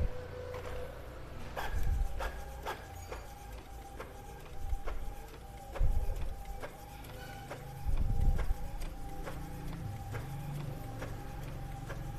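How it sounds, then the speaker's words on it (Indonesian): An Epson L1300 inkjet printer running a print job: rhythmic mechanical clicks and ticks from the carriage with low thumps of paper feeding, steady and fairly close, with no talk. "Ya, printer sudah berhasil ya."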